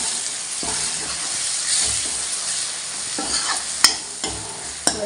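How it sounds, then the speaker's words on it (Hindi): Chhole being stirred in a cooking pan: a loud, close sizzle under scraping spoon strokes and a few sharp knocks against the pan, with no voices. "अब इसको अच्छे से मिक्स करेंगे"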